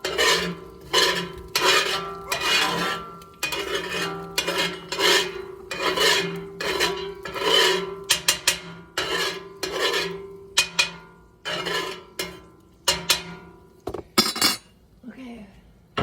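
A utensil scrapes a frying pan after cooking eggs, in a steady series of rhythmic rasping strokes about twice a second, close and clear in a quiet home kitchen, ending with a few quick clinks.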